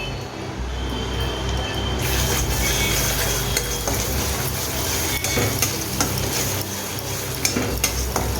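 Ginger, garlic and spices sauté over fried onion in a pan, giving a continuous close sizzle with scraping stirs and occasional clinks of a utensil against the metal.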